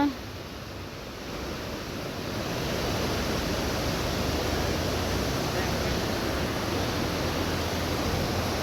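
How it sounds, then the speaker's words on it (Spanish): River water flowing beneath the Santa Elena bridge in Joyabaj, Quiché, a steady broadband rush that swells slightly after the first couple of seconds and then holds constant, with no talk over it. "Miren el río"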